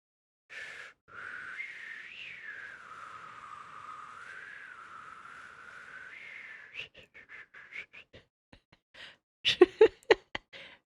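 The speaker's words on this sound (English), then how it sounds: "This is literally the only way I can whistle." A person whistles a long wavering tone that slides up and down, then breaks into a string of short chirpy notes and ends with a few sharp breathy bursts, all close and fairly quiet with no talking.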